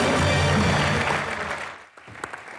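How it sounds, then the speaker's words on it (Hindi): Loud applause from a television comedy show audience, dense and continuous, tapering off after about two seconds into a quieter stretch with scattered noise. "एक बार जोरदार ताली प्रेम सर के लिए।"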